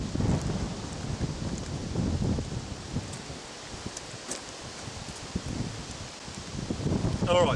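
Strong wind buffets the microphone in loud, rumbling gusts, roaring steadily throughout with brief dips, alongside a rustling flutter.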